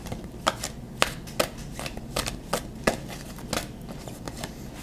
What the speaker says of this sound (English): let's go ahead and pull a few more cards for group number three